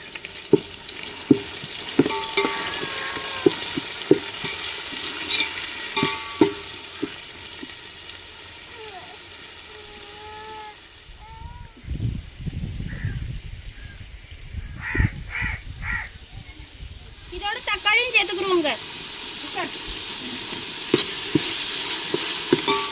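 Golden fried onions with ginger paste stirred in a pan for fish biryani, with sizzling and sharp spoon clacks. Crows caw loudly nearby partway through.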